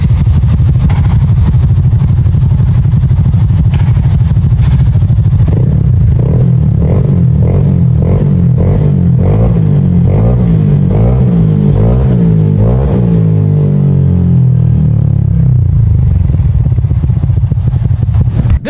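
A motorcycle engine bored up to 63 mm revs hard and loud, climbing through repeated throttle blips with a steady rough idle beneath, close and continuous with no talk.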